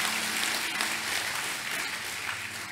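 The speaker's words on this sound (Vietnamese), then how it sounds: "Chắc là phải cho một tràng pháo tay để cảm ơn cha xứ vì cái khẩu hiệu về cái chủ đề." A church congregation at a Mass honouring Saint Joseph breaks into steady, sustained applause for the parish priest, a dense wash of clapping with no talk over it.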